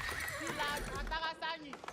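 A horse whinnies in Age of Empires IV, a high, wavering neigh over busy game sounds, with a voice talking over it.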